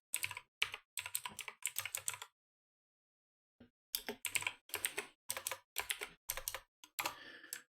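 A date being typed on a computer keyboard: several quick bursts of key clicks, a pause of silence, then another run of rapid tapping, close and fairly quiet with no voices.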